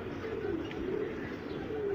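Pigeons and young squabs in a loft coo softly and continuously, a low murmuring drone with faint chirps above steady background noise.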